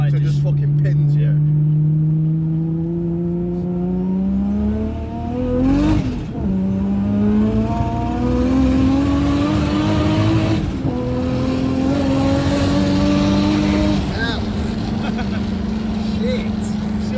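A car pulling hard under high boost, its engine note climbing steadily through the revs in long rising sweeps with brief dips at the shifts, loud and close from inside the cabin.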